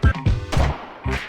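Gunshots from The Urbz: Sims in the City video game, several loud, close, punchy bangs in quick irregular succession with brief ringing tails, no speech.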